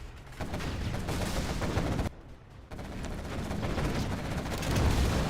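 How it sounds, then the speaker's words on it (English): Particle cannon blasts in a chaotic free-for-all strategy match, a dense barrage of booming, crackling impacts that roars on, drops out for a moment, then surges back louder. "Particle cannon has just been used."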